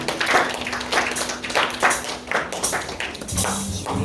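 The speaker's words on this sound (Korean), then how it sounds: "우리 영광의 박수를 하나님께 올리겠습니다." Church congregation applauding during a special worship service, a few seconds of irregular, moderately loud hand claps from many people, with a low sustained tone underneath.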